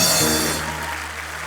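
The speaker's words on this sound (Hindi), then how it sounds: "वरुण और आलिया के लिए जोरदार तालियां" Loud applause from a studio audience on a Hindi comedy talk show, steady dense clapping that fades slightly toward the end.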